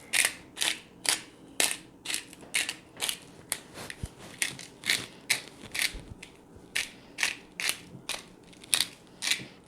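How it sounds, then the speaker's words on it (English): Small hand grinder cranked over Italian seasoning in a kitchen, a close series of about twenty crisp grinding crunches in a steady rhythm, with no talk. "We have a little grinder here, so some Italian seasoning."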